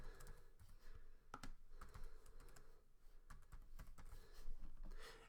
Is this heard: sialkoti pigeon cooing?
no